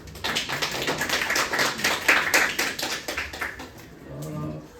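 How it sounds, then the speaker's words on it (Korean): Parents clap at a high school admissions information session, a fairly quick, loosely rhythmic burst of hand claps from a room of people that tapers off near the end as a voice begins. "박수 한번 다시 쳐보실까요?"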